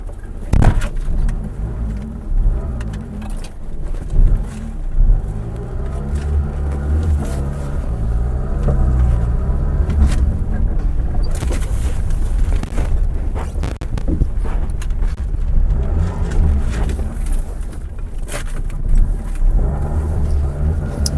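Maruti Zen car engine running during a test drive, a steady close low rumble with rises as it revs, birds cooing faintly in the background.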